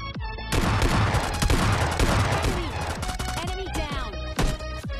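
Rapid automatic gunfire in PUBG Mobile Lite, with M4 and M24 weapons in play, loud and close, a dense fusillade of bursts lasting several seconds with sharper single shots near the end.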